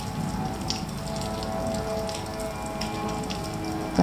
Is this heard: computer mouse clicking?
no